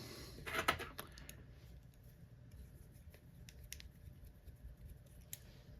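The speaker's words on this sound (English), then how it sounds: "When you cut this wire, use the back of your scissors." Scissors snip sharply through stainless steel wire near the start, followed by faint clicks and small fly-tying handling noises in a quiet room.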